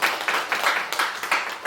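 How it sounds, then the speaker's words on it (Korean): Audience hand clapping at a community forum, in a steady rhythm, several claps spaced evenly, fairly close and moderately loud. "박수 한번 쳐주세요."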